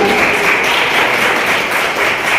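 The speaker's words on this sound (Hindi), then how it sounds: "जोरदार ताली कीजिए" Audience applause at a college fresher and farewell party, loud dense clapping filling the room steadily with no break.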